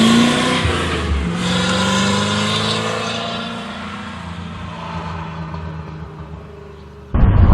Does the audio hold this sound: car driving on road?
yes